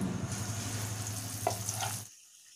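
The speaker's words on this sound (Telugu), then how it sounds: "వేగిన తర్వాత ఈ మిక్సీ పట్టింది వేసేయడమే ఇందులో" Ground spice paste for watermelon pickle sizzles and fries in a hot pan, a steady close crackle with a light stirring scrape before it cuts off abruptly.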